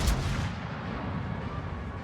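Naval gun salvo in World of Warships from a super heavy AP Preussen battleship, a single loud boom at the start that rolls into a long, dense low rumble, with no voices.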